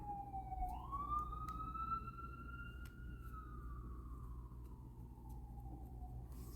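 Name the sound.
sirens and car horns outside window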